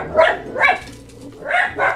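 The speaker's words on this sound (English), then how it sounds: "Sorry, dogs. We have 4 of them." Four pet dogs barking indoors, four loud close woofs in two quick pairs separated by a short pause.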